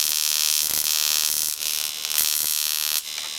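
An ignition coil driver kit drives a rear-projection TV flyback transformer, making a loud, harsh, steady electrical buzz with bright high-pitched crackle that shifts and surges a few times, close and continuous, with no talking.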